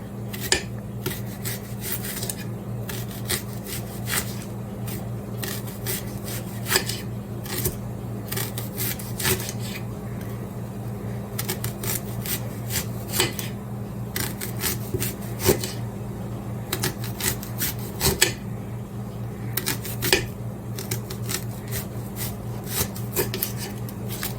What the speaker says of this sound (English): You can just slice up your onion.